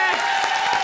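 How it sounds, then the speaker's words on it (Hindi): Studio audience on a Hindi TV comedy show breaking into brief, steady clapping that fills the short moment, with voices mixed in under the applause. "एक बार जोरदार ताली बजा हमारे लिए"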